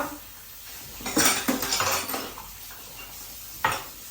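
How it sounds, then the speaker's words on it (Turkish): Dishes and cutlery clatter in a home kitchen during cleanup after breakfast, with a cluster of clinks and knocks in the middle and one sharper clank near the end, over a quiet room. "Şu mutfağı da toplayayım. Kahvaltı bulaşıkları var."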